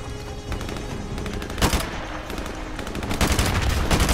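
Rapid gunfire from Call of Duty 4 Remastered rings out in loud bursts of automatic shots, close and continuous, with heavier volleys toward the end and no voices.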